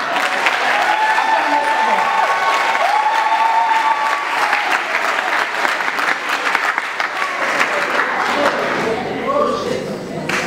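A church congregation at a Sunday service claps together in a loud, sustained round of applause, with voices calling out over the clapping.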